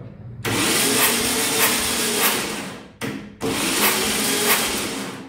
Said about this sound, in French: Ça, c'est le bruit d'une bonne compression.